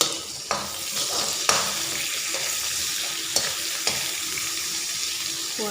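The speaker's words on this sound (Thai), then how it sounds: "แล้วก็คั่ว" Garlic and shallots stir-fried in a little oil with lemongrass, a steady close sizzle broken by several sharp clacks of the spatula against the pan, no voices.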